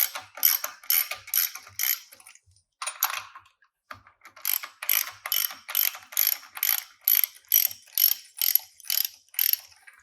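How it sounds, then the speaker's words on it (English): A ratchet wrench loosening four factory-tightened bolts on a flange bearing, repeated bursts of crisp rapid clicking in steady rhythm with short pauses between strokes, close and clear with no speech. "these are also tightened at the factory. So we'll go ahead and take those loose, all 4 bolts."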